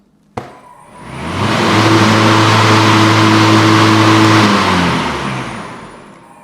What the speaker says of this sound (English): I'll fire it up and let you hear what happens.